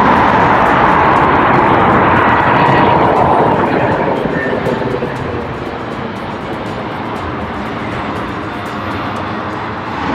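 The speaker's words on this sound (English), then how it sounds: "Looks like there is another bus coming." A city bus approaches a stop on a street in Antalya, Turkey, its loud engine rumble swelling up close and then easing to a steady lower drone as it slows.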